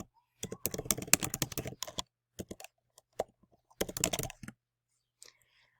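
Bursts of quick clicking keystrokes on a computer keyboard, close and fairly quiet, in short rapid runs separated by pauses and a few single taps.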